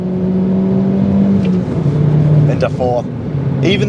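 An Alfa Romeo Giulietta QV engine rises in pitch as it revs while driving, loud and close, with someone talking over it.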